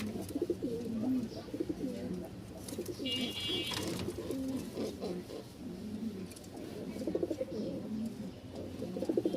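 A pair of Rajshahi giribaz pigeons coo close by in repeated soft, throaty rolls, with brief chirps and faint background noise.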